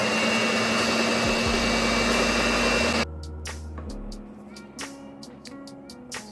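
Electric mixer creaming sugar for a Jamaican fruit cake: a loud steady motor whir with a constant hum, running close for about three seconds before switching off, followed by quieter clinks and brief scraping sounds.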